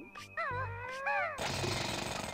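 A drill attack in the video game Banjo-Tooie: a short run of warbling, pitch-bending game tones gives way to a dense, noisy grinding burst that holds steady to the end, fairly loud with no speech.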